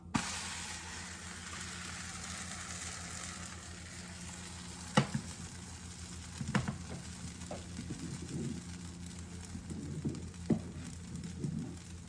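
Vegan crepes cooking in a pan, a soft steady sizzle and hiss with a few faint clicks and light scraping taps scattered throughout.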